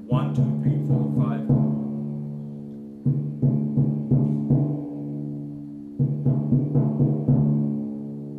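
Timpani played as a quintuplet roll exercise without a metronome: three groups of five quick resonant drum strokes, each group followed by a held ringing tone, sounding close and clear with no talking over it.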